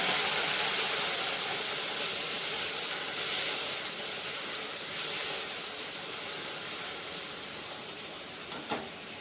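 Potatoes and tomatoes frying in hot oil, a loud, continuous close sizzle with bright hissing that swells and eases slightly, with faint stirring knocks near the end.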